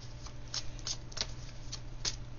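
Tarot cards being shuffled by hand, a soft continuous riffle with several brighter flicks, close and quiet over a low steady hum.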